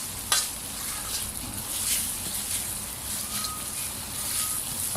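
Thick chili curry paste stir-roasting in a pan for fried catfish with chili paste, giving a steady close sizzle and frying crackle with a soft scrape of stirring throughout, no talk.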